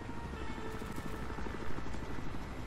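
Helicopter hovering overhead in the video game Battlefield Hardline, a continuous low rotor drone with steady thumping, moderately distant and fairly quiet throughout.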